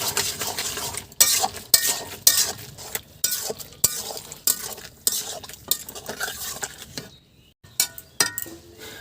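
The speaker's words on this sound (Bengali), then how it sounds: "ভালো করে মিশিয়ে নেব।" Bottle gourd and prawns with spices are stirred in a pan, the spatula scraping and clinking irregularly against the metal over a soft sizzle, with a brief pause near the end.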